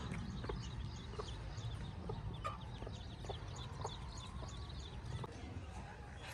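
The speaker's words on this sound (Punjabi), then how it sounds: "ਮੁਰਗੀ ਜਿਹੜੀ ਆਪਣੇ ਬੱਚੇ ਨੂੰ ਚੁਗਾ ਰਹੀ" A hen in a Pakistani Punjab village yard clucks softly while feeding her chick, short repeated clucks scattered over several seconds amid steady outdoor background noise and faint chirps.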